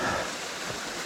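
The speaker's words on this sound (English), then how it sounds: "an 8-10 meter waterfall in my way" A creek drops over an 8–10 meter waterfall, making a steady, dense hiss of falling water that fills the whole short stretch without any voices.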